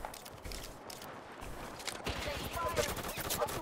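Gunshots in Apex Legends, a loose run of crackling shots with quick rattling bursts growing denser toward the end, fairly faint amid game noise and a speaking voice.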